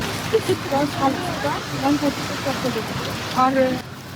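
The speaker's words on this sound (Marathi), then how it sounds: "तर तितक्यात पाऊस" Rain beginning to fall outdoors, a soft, even hiss and patter that carries on throughout while people chat over it.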